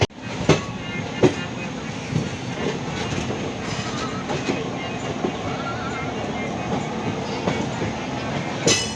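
Inside the Tambaram–Ernakulam special fare express as it runs toward Villupuram Junction, a steady rumble with rhythmic clickety-clack of the wheels on the rails and a few sharper clanks, heard close up.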